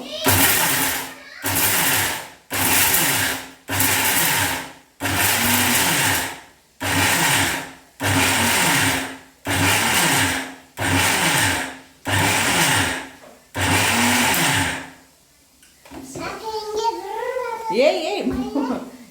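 A kitchen mixer grinder grinding a dry spice powder runs in about ten short, loud bursts with brief pauses between them, then stops. A voice speaks and background sounds follow.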